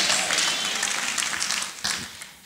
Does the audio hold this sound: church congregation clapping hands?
yes